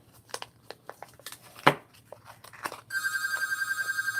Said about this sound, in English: somebody's phoning in a coin roll hunt bid